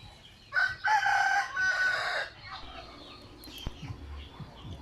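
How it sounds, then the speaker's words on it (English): Several roosters crow nearby in a tropical yard beside a house under construction in the Philippines, two long overlapping calls rising loud over a quiet outdoor background with fainter clucks and knocks afterward. "You may have noticed some roosters in the background."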